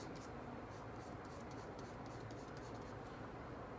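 A marker shading red on corset pattern paper, giving a faint, continuous scratchy rubbing of repeated strokes that stays soft and close throughout.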